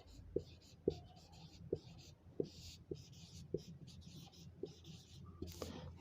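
Chalk or marker strokes on a classroom board during a Hindi teaching lesson, a series of short scratchy taps and scrapes spaced irregularly, fairly close and moderately quiet with faint room background.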